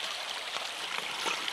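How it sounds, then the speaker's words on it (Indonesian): A small river tributary flows steadily, a continuous bright rushing and babbling wash with faint gurgles, close and even throughout with no voices. "Nah, ini sungainya nih, ini anak-anak sungai nih para sahabat."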